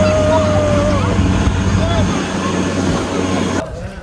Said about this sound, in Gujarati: આપણે પણ બોટિંગ ની અંદર બેસીએ છીએ બોટિંગ રાઈડ કરવા જઈએ છીએ